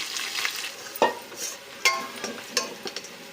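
Ginger-garlic paste with turmeric fries in a pan for ghee mutton biryani, a steady soft sizzle broken by a few sharp scraping stirs, close and alone with no talk.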